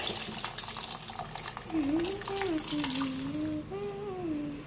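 Hot water pours and splashes into a pan of sprouted moth beans for a few seconds while someone talks over it.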